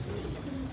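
A single brief, low pigeon coo, close and soft, in a short burst.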